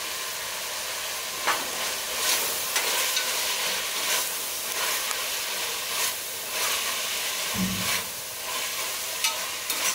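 Chicken biryani mixture with green chillies, mint and coriander stirred in a pan, a spoon scraping and sizzling steadily throughout with occasional louder clinks and a short thud near the end, no talking.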